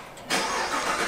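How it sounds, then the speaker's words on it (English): A car engine cold start: it catches and fires up abruptly after a brief crank, settling into a rough, loud idle, heard up close. "It is something called a cold start."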